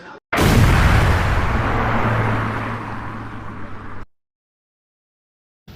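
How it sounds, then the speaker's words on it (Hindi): A transformer station explodes and catches fire at unit 8 of the Durgapur Projects Limited plant, a loud, close, sustained blast-like roar that rumbles for several seconds before cutting off abruptly. "डीपीएल के 8 नंबर यूनिट में गुरुवार को अचानक तेज धमाके के साथ ट्रांसफार्मर स्टेशन में आग लग गई।"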